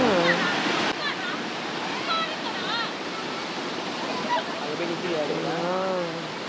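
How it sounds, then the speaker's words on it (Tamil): Steady rushing water roars throughout like a waterfall, with people talking over it, at Akaya Gangai waterfall in the Kolli Hills. "அருவி பார்த்தீங்களா"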